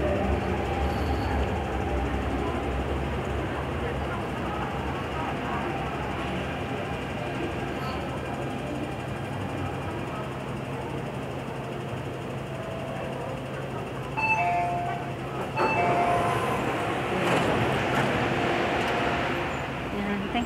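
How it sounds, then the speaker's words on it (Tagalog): Interior of a moving MTR train in Hong Kong, a steady low rumble and rolling hum throughout with faint rail clatter and brief squeals near the end, with people talking over it. "Sakay na kami ng train."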